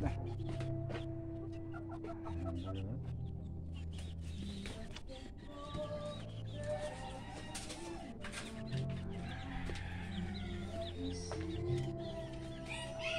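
Chickens being moved to a new spot cluck and murmur close by in a busy, overlapping chorus, with scattered sharp calls and shuffling over several seconds.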